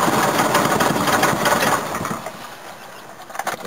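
An old Toyota BJ40 diesel engine runs roughly after glow-plug starting, a close, loud, uneven clattering chug that eases slightly in its second half.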